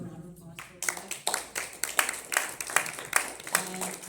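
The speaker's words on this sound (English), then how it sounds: "Round of applause for that." An indoor audience at a training event breaks into steady applause, a dense patter of hand claps that starts abruptly and holds at even loudness, with voices mixed in underneath.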